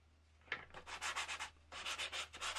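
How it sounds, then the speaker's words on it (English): Sandpaper scrubbed in quick back-and-forth strokes over a handmade Seax knife sheath to age it, a first burst of rasping rubs followed by a pause and a second steady run, close and fairly loud with no voices. "Then I use some sandpaper again."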